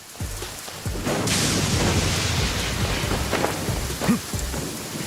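Steady rain pours down close by while low rumbles of thunder roll through, with a heavier boom near the end; no one speaks.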